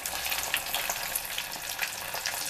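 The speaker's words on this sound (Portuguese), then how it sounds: "Agora vamos começar a fritar as nossas pimentas." Chili peppers for a stuffed-pepper recipe frying in hot oil give off a steady, dense sizzle with small crackles, close and even throughout, with no talking.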